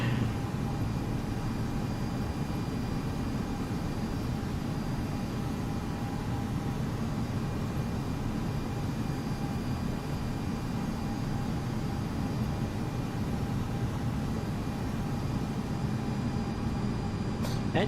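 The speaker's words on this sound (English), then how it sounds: "Engine sounds are good on this plane" Boeing 767-300ER jet engines in the X-Plane 11 flight simulator, a steady broadband roar and hum held evenly throughout at a constant level, with no other sounds breaking through.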